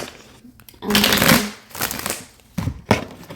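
A deck of tarot cards being shuffled by hand, giving several riffling, rustling bursts of card noise up close with short pauses between them and no talking.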